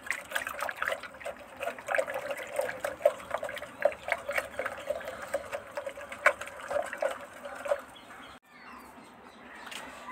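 Liquid cow dung fertilizer is stirred in a container, giving a run of wet sloshing and dripping splashes at an irregular rhythm, close and moderately loud, before it stops near the end. Chickens cluck faintly in the background.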